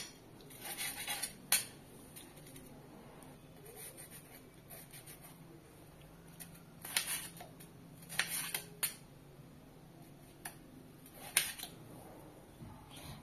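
A knife cuts through tomatoes on a board with scattered crisp chops and clicks, several in small clusters, close and fairly quiet with no talking.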